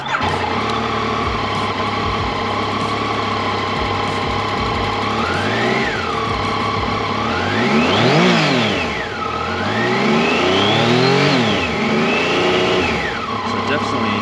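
A 2020 Yamaha Tracer 900 GT motorcycle engine idles roughly and then revs up and down repeatedly, loud and close, the pitch rising and falling with each throttle blip.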